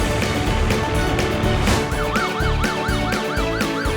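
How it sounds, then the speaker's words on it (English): A wailing police siren rises and falls repeatedly over a busy background with a pulsing rhythmic beat. "Police car,"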